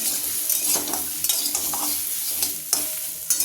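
Vegetables and drumstick pods fry and sizzle in a pan while a spatula stirs them, scraping and clattering in an irregular rhythm over a steady close hiss.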